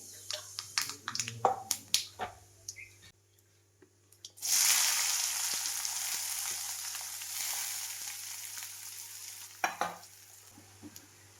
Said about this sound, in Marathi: आता फोडणी देऊन घेते